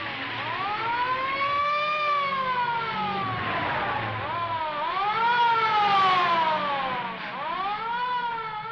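A police car siren wails in rising and falling sweeps during a vintage serial chase scene, loud and continuous over a low engine rumble, with no talk.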